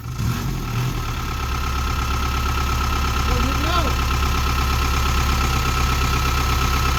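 An old pickup truck with a livestock rack idles close by in a steady, even low rumble that holds for the whole stretch, with a brief voice heard faintly over it midway.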